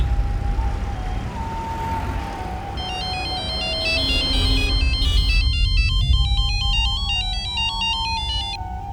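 An electronic phone ringtone plays a repeating melodic pattern of beeping notes, starting partway in and continuing steadily over a low background rumble.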